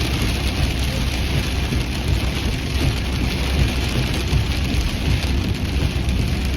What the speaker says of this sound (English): Rain's starting to lighten up.